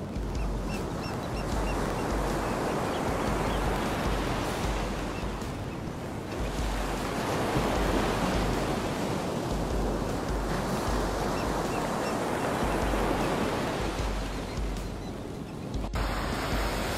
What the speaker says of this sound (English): Beautiful moment of the ocean.